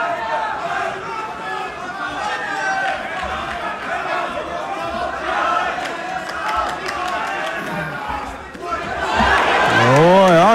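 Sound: MMA fight audience cheering

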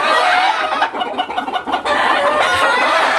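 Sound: chickens clucking and roosters crowing at farm

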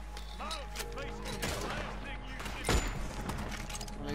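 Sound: gunshots in the video game Red Dead Online

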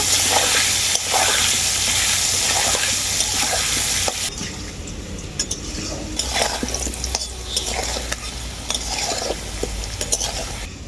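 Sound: potatoes with salt and turmeric frying in a pan

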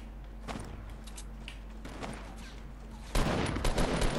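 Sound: grenades thrown and exploding in the video game Fortnite

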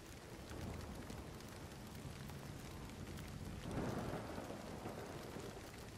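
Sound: thunderstorm with rain and hail in video game Nightingale

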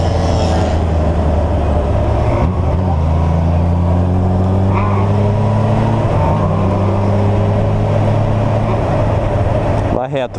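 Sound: Honda CBR 600F motorcycle engine revving

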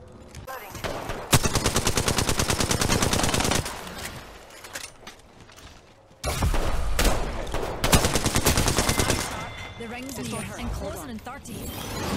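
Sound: Alternator gun firing in a video game

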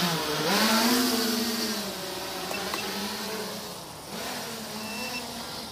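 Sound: FPV drone motors spinning during test

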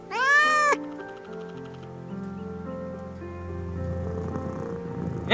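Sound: cat meowing in the video game Haru demo

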